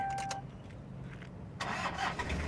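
A Toyota Hilux Sport Rider 3.0 manual 4WD SR5 pickup's diesel engine cranks and catches, a brief starter whir followed by the engine firing up into a steady idle, heard close.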